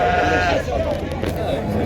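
Sheep bleat at a busy weekly livestock market, a drawn-out wavering bleat close by with more animals calling behind, while people talk over the noise of the crowd.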